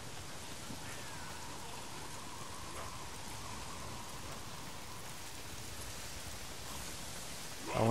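Steady, constant rain patter in the video game Days Gone, with a broad hiss, evenly spread throughout, with no voices; a brief louder burst comes at the very end.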